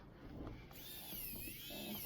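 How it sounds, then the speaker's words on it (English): Small battery-operated craft drill boring a hole in a resin keychain, a thin high motor whine that rises in pitch and wavers as it bites into the resin, close and fairly quiet. "you also can use a sort of craft drill. It's battery operated"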